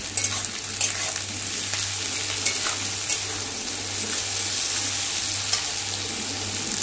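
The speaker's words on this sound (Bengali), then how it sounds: "সব কিছু ভালো করে নেড়েচেড়ে একবার মিশিয়ে নিচ্ছি।" Chopped onion and capsicum stir-fried in a pan for badam chowmein, giving a steady close sizzle with scraping stirs throughout.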